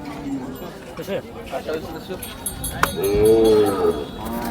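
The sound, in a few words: Khillar cow mooing at Sangola cattle market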